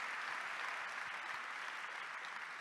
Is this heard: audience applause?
yes